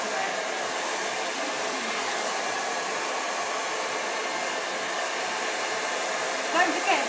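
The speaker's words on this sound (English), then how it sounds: "you've got to be able to blow dry the hair in 45 minutes" A hair dryer blows steadily and loudly at close range while hair is being blow-dried in a salon training session, a continuous broadband whoosh that barely varies in strength from start to finish.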